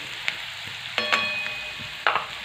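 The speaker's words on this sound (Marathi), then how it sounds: "त्यामध्ये आपल्याला थोडीशी कोथिंबीर आहे ना तेलामध्ये टाकायची आहे ती पण छान परतून घ्यायची आहे" Coriander and turmeric sauté in hot oil with a close, crackling sizzle, broken by a few sharp stirring scrapes and spatters, and no voices.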